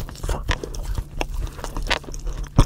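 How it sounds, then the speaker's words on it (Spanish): A person eats and chews on camera in a mukbang, with close, wet biting, crunching and mastication sounds repeating irregularly throughout. "A esta cosa le llaman mukbang, que consiste en tragar todo lo que se les dé la gana frente a una pinche cámara."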